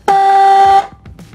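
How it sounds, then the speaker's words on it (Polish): A car horn mounted on a bicycle gives one steady, loud blast of about three quarters of a second, with no voices around it and only a few faint clicks after it stops. "Klakson działa."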